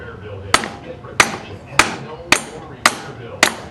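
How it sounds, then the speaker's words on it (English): Six sharp metallic taps from the butt end of a hammer on top of a valve land at an even, unhurried pace, each ringing briefly against a faint background hum. "I take the butt end of a hammer,"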